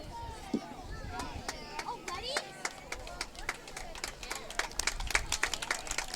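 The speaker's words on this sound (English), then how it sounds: "Brooklyn Park Police Honor Guard is getting a round of applause." A parade crowd at the 2017 Brooklyn Park Tater Daze Parade applauds the passing Brooklyn Park Police Honor Guard, with scattered outdoor clapping that builds over several seconds under nearby voices and chatter.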